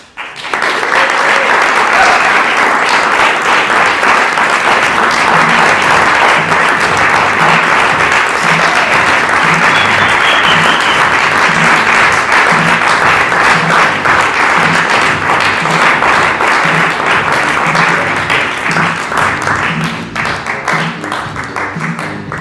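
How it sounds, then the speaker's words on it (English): A large theatre audience applauds loudly and continuously for over twenty seconds at a play's curtain call, with dense, sustained clapping that tapers slightly at the end. "one more round of applause for our beautiful cast"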